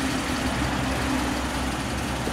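Engine of a 1950 Ford Custom Coupe barn find running steadily, heard as a constant low idle rumble that stays even and close throughout, with no talking.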